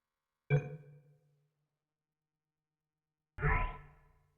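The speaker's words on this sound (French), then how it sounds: "Vous allez entendre une sonnerie." Two separate electronic chimes from the Portal 2 video game, each a bright struck tone ringing out and decaying, about three seconds apart, with silence between and no voices.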